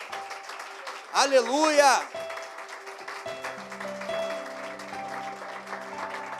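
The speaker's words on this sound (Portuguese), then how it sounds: "Você pode aplaudir o nome do Senhor?" A church congregation applauds briefly after a loud shouted praise, then the clapping continues softly beneath sustained keyboard chords and background voices.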